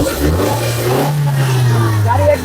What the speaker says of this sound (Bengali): গাড়িটা স্টার্ট দেওয়া হয়েছে এই ভাই সাউন্ডটা কি সুন্দর ভাই